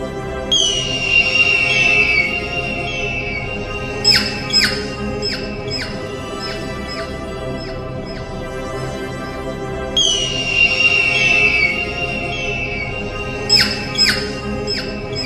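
A sharp, descending eagle or hawk screech from an Egyptian-themed Incredibox mod rings out loudly, then returns about ten seconds later, both times over a steady looping music bed.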